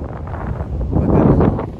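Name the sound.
wind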